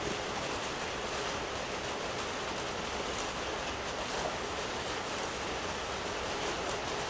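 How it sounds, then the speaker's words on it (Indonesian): Rain falls steadily outdoors, a dense, even hiss of broadband noise that holds at a constant level throughout with no voices and no breaks. "Hujan sudah mulai turun, jadi mohon maaf jikalau dia sedikit berisik."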